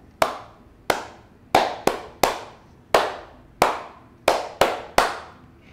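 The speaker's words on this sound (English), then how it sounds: "I'm going to replace this cup with these cute, cute little baby cups. Oh, so cute. And here's what it would sound like." Small baby cups are tapped in a rhythm pattern, giving about a dozen sharp, close, hollow clacks in an uneven but steady beat, with no voices.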